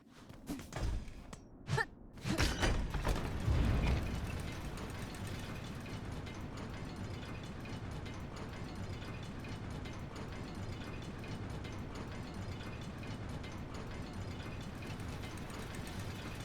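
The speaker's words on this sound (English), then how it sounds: "from here move further east where you wanna take an elevator down" Mechanical ratcheting and gear clatter from an elevator descending in the Hollow Knight Silksong video game, a few clanks at the start, then a steady low rumbling whir that runs on evenly to the end.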